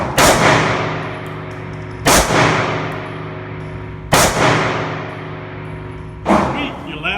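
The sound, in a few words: pistol shots from a Hellcat handgun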